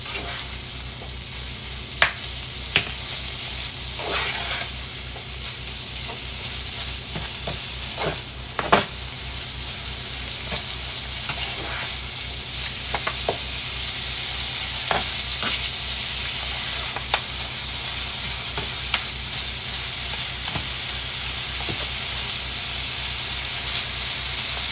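Corned beef sizzles steadily in a frying pan for a breakfast of corned beef and eggs, with a constant frying hiss broken by sharp clicks and scrapes of stirring throughout.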